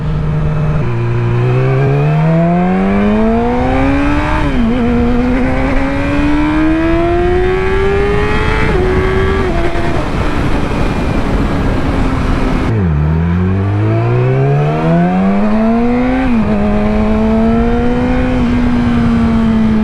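A sportbike with a slip-on exhaust drones steadily at highway speed, its pitch rising through gears and dropping on shifts, loud and close with constant wind rush underneath.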